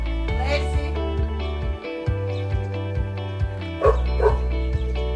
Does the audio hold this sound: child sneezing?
no